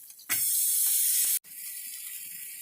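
Buttered bread laid into a hot pan for a grilled cheese sandwich bursts into a loud, bright hissing sizzle that holds steady for about a second, breaks off briefly, then settles into a quieter continuous sizzle.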